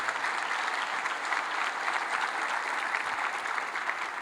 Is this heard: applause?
yes